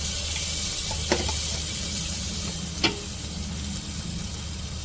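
Green chillies and ginger garlic paste frying in a pan, a constant hissing sizzle with a couple of sharp utensil taps against the pan.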